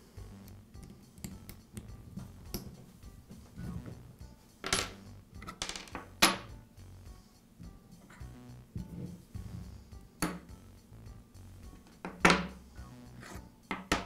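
Metal parts of a DeWALT shear clinking and clattering as it is taken apart by hand, with scattered sharp taps and rattles at irregular intervals, close and fairly quiet between the louder knocks.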